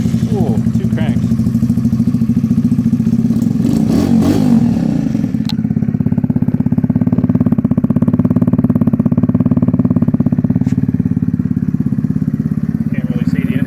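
A 2017 Kawasaki Z125 Pro fitted with an aftermarket exhaust pipe and foam intake idles close by, a steady low engine throb with a brief rev and clatter near the start.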